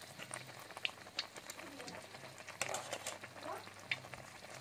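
Penjaram cakes frying in hot oil give a steady, moderate bubbling sizzle with scattered pops and small clatters from the pan, heard close up and without talk.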